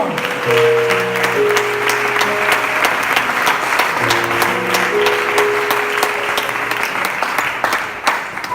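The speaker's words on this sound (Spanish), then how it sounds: "Dale un fuerte aplauso al Señor" Loud, sustained applause from a congregation at a church service fills the whole stretch, with steady music playing underneath.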